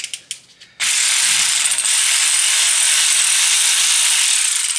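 Ratchet working a small brake disc securing bolt on a Volkswagen/Audi MQB car: a few sharp separate clicks, then a loud, steady, rapid ratcheting buzz that runs close and unbroken to the end.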